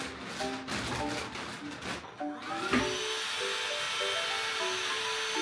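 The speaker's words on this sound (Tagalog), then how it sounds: "Aking pang vacuum. Yung pang seal niya. Tapos, vacuum na natin." A vacuum sealer pumps air from a bag in a steady, whining mechanical drone that carries on after a brief jolt midway, with faint background noise throughout.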